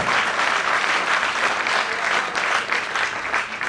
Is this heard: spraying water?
no